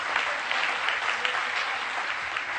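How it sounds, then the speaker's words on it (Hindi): A full house at a Maharaja Agrasen Jayanti comic poetry gathering applauds performers, dense steady clapping that stays even and fairly loud throughout. "एक बार पूरा हाउस जोर से तालियों से उनका स्वागत करे"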